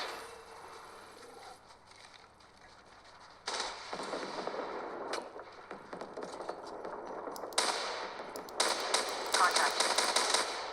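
Rapid bursts of automatic gunfire in the mobile game Apex Legends Mobile, played on a Redmi Note 8, crackle loudly in repeated volleys that grow denser toward the end, mixed with game sounds and a voice speaking.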